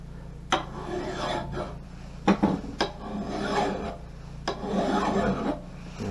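A file rasps along an axe head, putting a secondary bevel on the edge in long, rhythmic strokes, close and gritty, with brief metallic clinks between passes.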